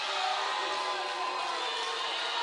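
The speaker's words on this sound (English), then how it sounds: "And you can hear the booing coming out." A crowd at a varsity volleyball regional semifinal, Amelia Raiders vs. Bruton Panthers, roars in a dense, steady wash of voices reacting to a referee's call, loud and continuous throughout.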